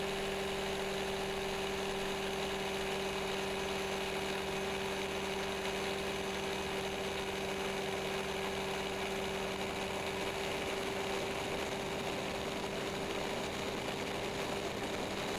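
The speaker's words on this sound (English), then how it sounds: "With close to a mile of smooth snow ahead of me, I use even less throttle for this takeoff." A Beaver RX 550 ski plane's engine runs at low throttle during a takeoff across smooth snow, a loud, even, unbroken drone with a steady tone and constant vibration from start to finish.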